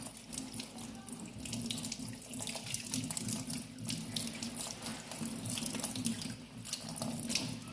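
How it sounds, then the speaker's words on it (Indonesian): Tap water runs steadily into a sink during six-step hand washing, a continuous close splashing hiss with faint drips and no talking. "kita akan melakukan cuci tangan secara 6 langkah"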